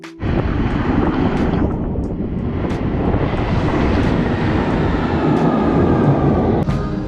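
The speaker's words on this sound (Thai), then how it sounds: "รถไฟมาแล้วนะครับ 10 โมง 1 นาที" A train rumbles steadily into a London station, a loud, continuous roar of engine and wheels with occasional clanks, no voices.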